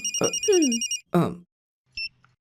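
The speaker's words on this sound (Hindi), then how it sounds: "Madam phone." A telephone rings twice in a movie scene, two short electronic trills separated by a pause, with a woman's speech before the rings.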